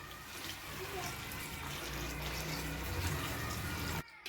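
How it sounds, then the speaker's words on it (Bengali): Hot water is poured into a pan of Kerala-style chicken curry, a steady rushing splash lasting about four seconds before cutting off abruptly. "এবার দেওয়া হবে গরম জল"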